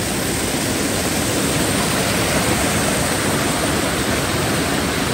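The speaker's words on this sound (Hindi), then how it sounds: "चेक करें ना कितना खूबसूरत पानी जा रहा है" A mountain stream in Kashmir, swollen by heavy rain near Toli Peer, rushes in a loud, unbroken roar that stays steady and close throughout, with no voices over it.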